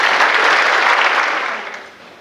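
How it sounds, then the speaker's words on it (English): Audience applause at a National Honor Society induction ceremony, a dense, steady burst of many clapping hands that holds loud and then tapers off toward the end. "I'd like to give them a round of applause."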